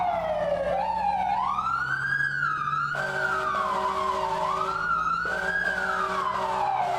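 Electronic emergency vehicle sirens in the video game EmergeNYC wail continuously, sweeping up and down, with a second siren tone joining partway through; loud and close, no talking.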